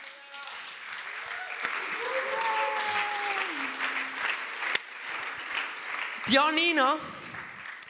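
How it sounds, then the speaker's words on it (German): Audience applause rings out as a guest is welcomed onto a stage, a steady wash of clapping under a voice that continues talking over it. "lass uns einen riesen Applaus geben, der Janina Kunz"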